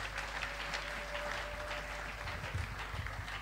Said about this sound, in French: Nous disons Amen et nous acclamons pour la gloire de Dieu.